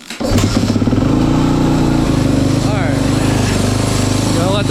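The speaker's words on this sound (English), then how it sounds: "I like to get the bike warmed up for about 5 minutes or so" A 2015 Kawasaki KX450F dirt bike idles steadily while warming up, its loud, close, buzzing engine note holding a constant rhythm from start to finish with no pauses.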